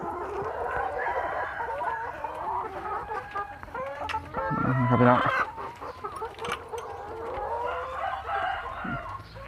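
Egg-laying hens clucking and calling in a busy, continuous chorus, with a rooster-like crow rising briefly in the middle; fairly close and steady throughout.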